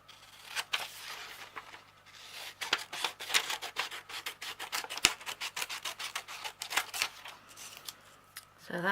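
Scissors snip through a diamond painting canvas piece while preparing a watercolour dog kit, giving a rapid run of crisp, close cutting and rubbing strokes with brief pauses and no talk.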